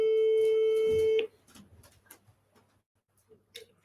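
On an outgoing phone call, a steady electronic ringback tone sounds for about a second and then cuts off as the line connects, leaving quiet line noise with faint voices.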